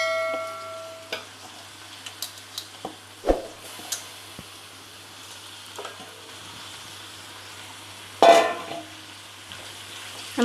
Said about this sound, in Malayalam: നമുക്കിതിനെ ഒന്ന് വഴറ്റിയെടുക്കാം